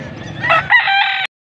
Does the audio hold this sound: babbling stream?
no